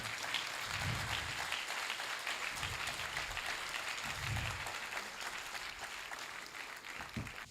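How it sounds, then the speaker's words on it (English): An audience at a medical gathering gives a steady round of applause that holds evenly for several seconds, a dense wash of clapping with faint low rumbles beneath and no speech. "With a very resounding round of applause, shall we invite Professor Kobinnah Nkyekyer."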